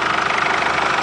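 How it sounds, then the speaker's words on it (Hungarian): A 2001 Mercedes Sprinter 313 CDI van's 129 hp diesel engine idles steadily, a close, even rumble with a fine rhythmic ticking and no voices over it. "Mercedes és egy 313 CDI, 129 lóerős CDI motor jár ebben az autóban"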